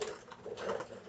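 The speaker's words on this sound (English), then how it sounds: "I apologize for the birds." Pigeons coo in soft, repeated low murmurs that carry on steadily and fairly close for the whole moment, with no speech over them.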